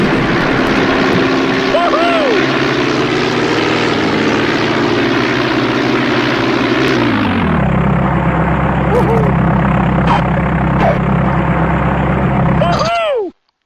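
Propeller planes droning in a video game aerial dogfight, a loud continuous engine hum that drops in pitch midway, with brief sweeping tones and a voice talking over it before an abrupt cutoff.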